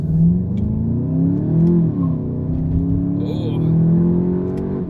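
A 2019 Volkswagen Jetta GLI 35th Anniversary Edition with a seven-speed DSG revs up while driving, its engine note rising and falling through gear changes, loud and close from inside the cabin, with a brief exclamation from the driver.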